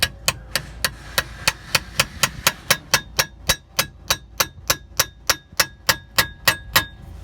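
A hammer taps a nut on the front wheel bearing of a 2014 Avalon: about twenty sharp, ringing metallic strikes land close and loud in a fast, steady rhythm with no voices.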